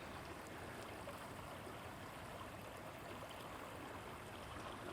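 A small creek with a tiny waterfall flowing outdoors, a steady, faint rushing and trickling of water with no talk over it.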